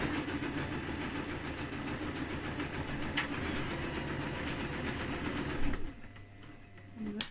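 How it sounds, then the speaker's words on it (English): A sewing machine stitches along the edge of a drawstring bag, a steady close mechanical whirr that runs for several seconds before stopping abruptly, leaving a quiet room. "And then you're going to sew along."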